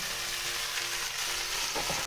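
Dense, continuous sizzling from a frying pan, loud and close, with faint stirring scrapes toward the end.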